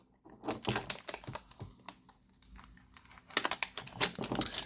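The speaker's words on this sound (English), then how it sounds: "we are going to remove that entire sticker, like so." A sticker being peeled off a hard disk drive during data destruction, heard as bursts of crinkly, tearing crackles in two spells with a quieter gap between, close and fairly soft.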